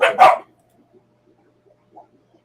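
Two quick, sharp dog barks right at the start, close by, followed by near silence.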